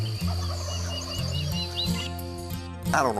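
Wild turkeys gobble on a wooded ridge, a few overlapping rattling calls close and far, ending with a louder nearby gobble, with songbirds chirping behind.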